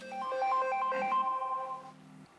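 A phone ringtone plays as a call comes in from jail in Baghdad, a melodic electronic tune of rising and falling notes, fairly loud and clear, fading out after about two seconds.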